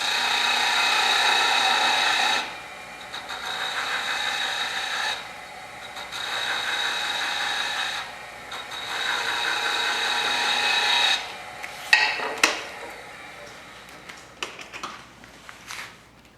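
A wooden Christmas ornament is trimmed to diameter on a lathe: a loud, steady cutting hiss in long passes separated by short pauses, ending in a scatter of scraping taps and knocks, with no voices.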